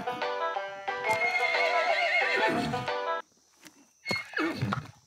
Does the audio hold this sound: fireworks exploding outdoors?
no